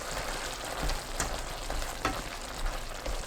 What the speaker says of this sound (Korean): 양념이 자박하게 남을 때까지 가끔 저어가면서 끓이면 되는데